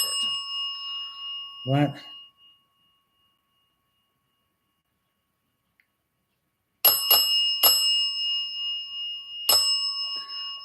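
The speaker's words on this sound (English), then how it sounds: "I'm going to turn off said bell." A bell rings in bursts of bright, sustained metallic tones, a first ring then a cluster of repeated strikes after a silent gap, with a short spoken word in between.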